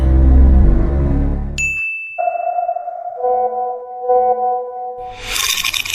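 In a cartoon, a bright phone message notification ding follows a loud low rumble, and sustained electronic tones ring on afterwards.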